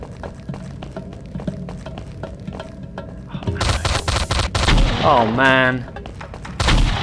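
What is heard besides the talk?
shotgun fire in FPS Creator video game Mob Ties Tokyo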